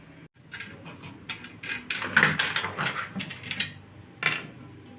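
A screwdriver works loose the screws on an electric hotplate, giving close, irregular metallic ratcheting clicks and scrapes in short bursts.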